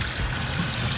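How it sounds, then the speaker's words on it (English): Cold water runs steadily from a sink tap in a Ram Promaster camper van conversion, a continuous splashing rush over about a second. "Testing the cold water, make sure that nothing leaks."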